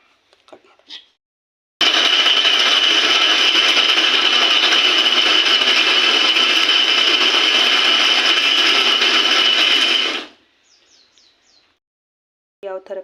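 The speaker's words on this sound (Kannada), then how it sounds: "ಸ್ವಲ್ಪ ನೀರು ಎಷ್ಟು ಬೇಕೋ ಅಷ್ಟು ನೀರನ್ನು ಹಾಕ್ಬಿಟ್ಟು ಮಿಕ್ಸಿಗೆ ಹಾಕೋದನ್ನು ತೋರಿಸ್ತೀನಿ" A mixer grinder whirs loudly and steadily for about eight seconds, grinding masala paste with water for a chicken curry, then stops abruptly; brief kitchen sounds come just before and after.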